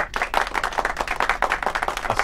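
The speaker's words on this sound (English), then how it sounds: "smattering of applause" A small smattering of applause from a few people clapping nearby, quick uneven hand claps sustained for a couple of seconds.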